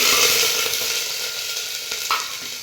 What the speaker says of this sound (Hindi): कुकर में तेल डाल करके और जीरा डाल दिया है।